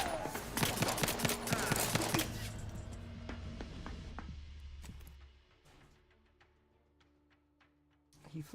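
Rapid bursts of rifle fire and impacts from The Outer Worlds 2, dense and loud for the first couple of seconds, then thinning into scattered shots and clicks over a low droning hum as the fight fades.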